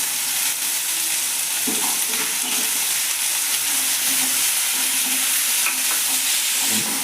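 Green garlic and chopped onion sautéing in a hot pan for an eggplant olo: a loud, close, continuous sizzle with occasional stirring scrapes, no voices.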